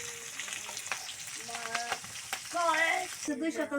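Fish roe frying in hot oil on a stove gives a continuous close sizzle with light stirring noises, while voices, including a high-pitched one, are heard over it.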